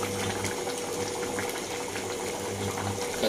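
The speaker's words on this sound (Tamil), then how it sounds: "குழம்பு எப்படி கொதிக்குது பாருங்க." A pot of Tamil curry with eggplant, onion, tomato, potato and broad beans bubbles and gurgles continuously at close range, a steady simmering hiss with soft popping throughout.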